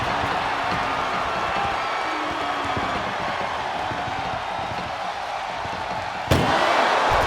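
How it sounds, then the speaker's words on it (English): Ambulance door slammed shut during a WWE 2K24 ambulance match, a single sharp metallic bang near the end over steady arena crowd noise. "Trying to at least slam one door shut."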